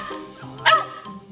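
A puppy gives a single sharp, high yip-like bark in the middle of a short stretch, close and clear with soft background noise around it.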